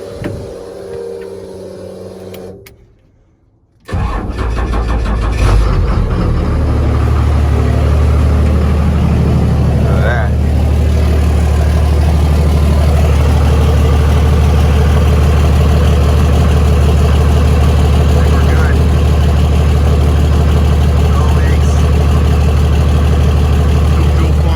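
Cummins diesel engine with a big fuel pump setup cranking after a quiet pause, then catching and settling into a loud, steady low idle rumble that carries on to the end.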